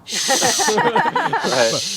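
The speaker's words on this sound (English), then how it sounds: "the sizzling you hear in the background is Anne France's husband Lionel making dinner" Chicken sizzles in a frying pan as dinner cooks nearby, a steady hiss that is briefly exposed at the start and end and otherwise sits under close, continuous talking.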